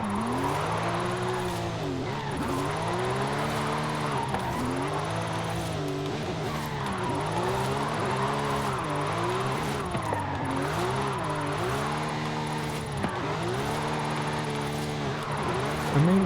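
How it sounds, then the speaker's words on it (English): Porsche 911 GT3 drifting in Forza Horizon 5, its engine rising and falling in repeated revving sweeps with a continuous tire squeal, loud and close, while a voice talks intermittently over it. "This one's actually drifting really well than I thought it would."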